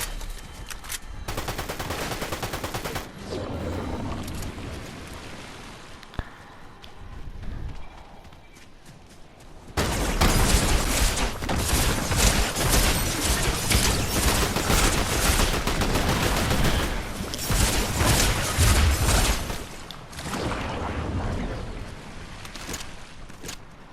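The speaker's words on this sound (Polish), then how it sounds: "Strzelają do mnie, dobra." Gunfire in the Fortnite video game: steady, dense bursts of shots and battle noise fill the second half after quieter game sounds, close and loud.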